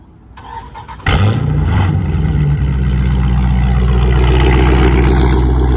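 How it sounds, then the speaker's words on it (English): A Dodge SRT Hellcat V8 fires up from a remote cold start: a brief whir and catch, then a loud bark that settles into a steady, heavy rumbling idle that carries on alone. "We're gonna go on and get y'all a little remote start, a little cold start."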